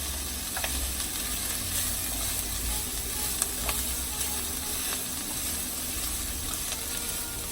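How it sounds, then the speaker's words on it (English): Chopped Hatch chilies sizzle and crackle steadily in a hot pan for the whole stretch as they are stirred constantly, with a dense frying hiss and small scraping clicks of the spoon against the pan. "let that sizzle around a bit. Constantly stirring."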